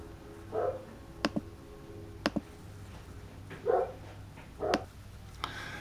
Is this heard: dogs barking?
yes